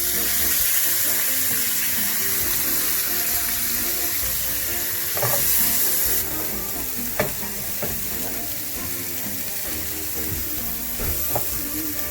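Water poured into a hot frying pan holding onions and the juices from ribeye steak, giving a loud steady sizzle with stirring clicks and scrapes throughout, no one speaking.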